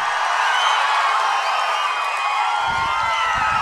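A political rally crowd clapping and cheering, a dense, loud, steady roar of applause and shouts from a large gathering that fills the whole stretch without letup.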